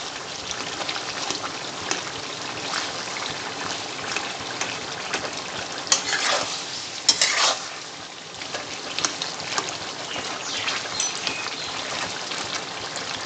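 Smashed tomatoes are stirred in a karahi pan for cherchi chicken karahi, giving a continuous wet sizzle and spatter with a few louder scraping bursts midway.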